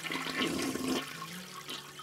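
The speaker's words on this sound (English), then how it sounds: "whenever they flush their toilet, their waste is headed for a useful second life" A household toilet flushes nearby, a loud rushing gush of water that tapers into a softer swirl and trickle.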